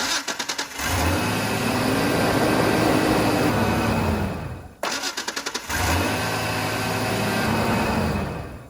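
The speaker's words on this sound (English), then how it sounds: "this thing spins the engine over super fast" A car engine on a freshly installed Uplus battery cranks briefly and fires up, runs, shuts off, then cranks and starts again, loud and close with fast, rapid cranking.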